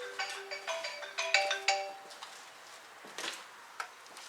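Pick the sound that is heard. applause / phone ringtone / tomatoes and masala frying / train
phone ringtone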